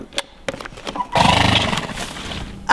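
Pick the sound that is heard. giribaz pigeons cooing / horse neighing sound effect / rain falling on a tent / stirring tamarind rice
horse neighing sound effect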